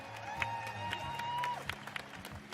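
Scattered applause ripples through a big crowd along the home straight of an athletics arena at the Invictus Games, moderate and steady with a tonal background hum.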